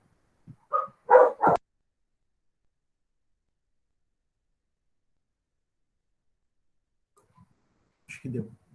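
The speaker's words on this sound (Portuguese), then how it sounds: "Os cachorros meuzinhos resolveram acordar aqui, gente" Pet dogs in a home give a short cluster of three barks, then go quiet for several seconds before a final low, muffled bark or whimper near the end.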